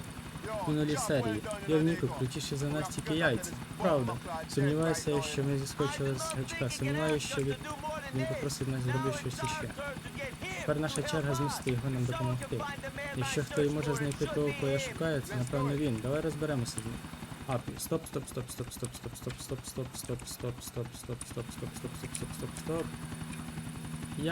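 A GTA IV helicopter gives a steady rotor drone and chop that runs under almost continuous talking, then continues more openly near the end.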